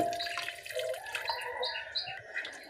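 Water poured into mashed red lentils and potato mixed with mustard oil for a curry, giving a steady splashing and trickling pour with faint bright chirps in the background.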